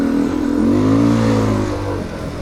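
Husqvarna off-road enduro motorcycle engine revving up close, a loud rising and falling engine note with strong harmonic whine that swells and then settles back toward idle.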